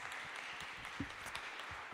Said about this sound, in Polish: Tak, brawa